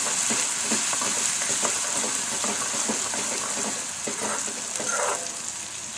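Cumin, ginger-chilli paste and chillies sautéing in a pan while cooking Rajasthani dal, a continuous close sizzle with light scraping stirs throughout and a brief watery splash near the end.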